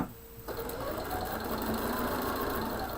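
After a brief quiet start, a sewing machine starts up and runs steadily while stitching a fabric cushion for holding clips and pins. It gives a close, continuous mechanical whir and rattle with no talking.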